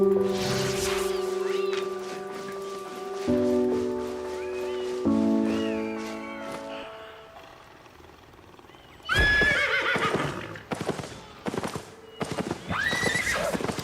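A horse in a video game whinnies several times with rhythmic clip-clopping hooves, and steady tonal game music hums underneath. Louder snorts and neighs follow near the end.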